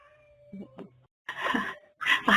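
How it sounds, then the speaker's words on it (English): A cat yowls in drawn-out, wavering wails, close and fairly loud, with a short quieter stretch before the loudest cries. "I've got a cat caterwauling at me right now."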